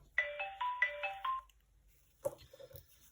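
A smartwatch triggers its find-phone alert on a phone, which plays a bright electronic ringtone melody of repeated tones for about a second and a half, followed by a shorter, rougher burst of sound.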